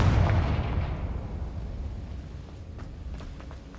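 Confringo blasting spell cast in the Hogwarts Legacy video game, a loud explosive boom with a heavy low rumble that decays over several seconds, followed by faint crackling debris.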